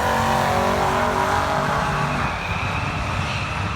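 A car launches down a drag strip with a loud, sustained engine roar that holds steady and then eases slightly toward the end, heard up close with no talking.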